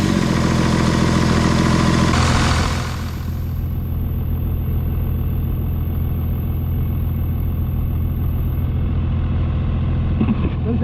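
An Audi diesel engine, rebuilt with new rings and with its oil cap flipped and resting on the filler hole, runs and then settles into a steady idle. A loud rough start fades to an even, droning low idle that continues alone.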